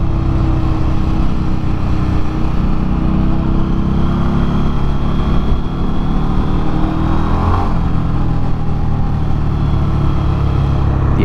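An Indian Scout Rogue motorcycle engine pulls hard under acceleration, a loud, continuous low rumble and roar that holds steady throughout with rising tonal sweeps.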